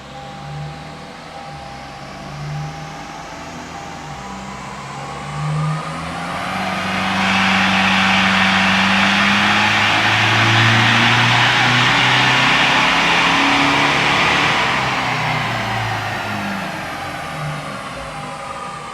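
Toyota Hiace with a 1GD diesel engine on a dyno run, idling and then revving hard and holding a loud, sustained high-load roar for several seconds before easing off, with no talking.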